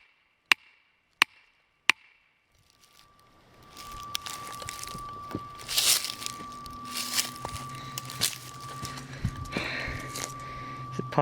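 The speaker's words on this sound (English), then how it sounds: "the hammer and chisel thing hasn't gotten any funner since the last time I did it" Three sharp hammer blows strike a chisel close by, then a busy stretch of scraping, knocking and rustling follows under a steady hum, with faint voices mixed in.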